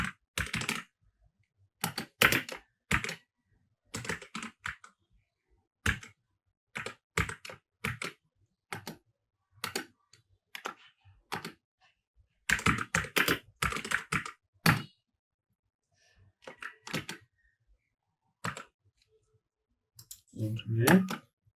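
Rapid bursts of computer keyboard typing while writing a C program, clustered clicks in quick runs separated by short pauses, close and clear with no talking.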